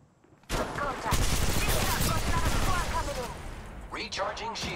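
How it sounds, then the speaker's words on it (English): Gunfire in the mobile battle-royale game Apex Legends Mobile, a loud sustained burst of rapid automatic shots after a brief quiet start, with a voice heard as the firing eases near the end. "Opening fire on the enemy."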